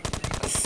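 Rapid automatic gunfire in the video game Dude Theft Wars, a quick burst of about eight evenly spaced shots in under a second, crisp and fairly close.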